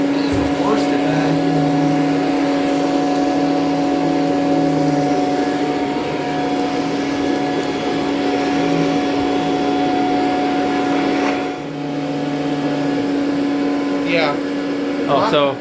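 A vacuum cleaner with a power nozzle runs on medium-pile carpet, giving a loud, steady motor drone with a constant whine that holds for the whole stretch, briefly dipping once, while someone talks over it.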